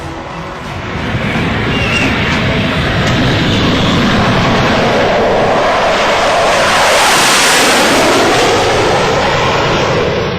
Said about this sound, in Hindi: देखिए हाईवे पर धूल उड़ाते हुए आते जाते ये दोनों लड़ाकू विमान।